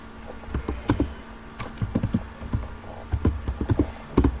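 Typing on a computer keyboard while writing ASP.NET code, irregular clusters of close, crisp key clicks with short pauses between them, with no talking.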